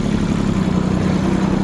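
Small Japanese Iseki TU-185 mini tractor with a front-mounted snow plough blade, its engine running at a steady idle, a continuous low, even hum close by with no talk.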